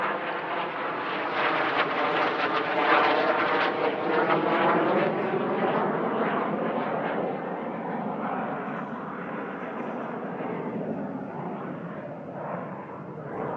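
A CL-13B Sabre Mark VI jet flying an aerobatic practice display at Duxford gives a loud, sustained roar that swells and slowly shifts in pitch as it passes, steady throughout with no talk.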